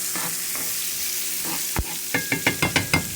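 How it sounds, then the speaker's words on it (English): Spinach frying in about three tablespoons of oil in a pan, with a steady sizzle underneath a series of sharp, rhythmic scraping stirs that come close and loud toward the end. "we're gonna have to stir that spinach up in there"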